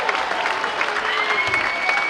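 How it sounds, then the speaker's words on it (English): Steady, dense audience applause in a hall at a hospice dance event, continuous clapping throughout with a faint crowd murmur beneath. "So give him another round of applause"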